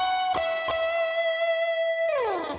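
Plain electric guitar melody with no fancy techniques: two picked notes, then one long sustained note ringing for over a second, ending in a downward bend or slide. Played alone with effects and a little reverb.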